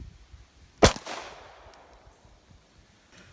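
An FN FNP9 pistol fires one sharp, loud outdoor shot whose report rings briefly and fades, with faint clicks around it and no talking.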